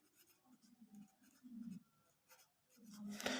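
Writing on a board in a seventh-grade maths lesson on data handling, brief scratchy strokes in quick clusters, close and fairly quiet, with a low voice murmuring between them.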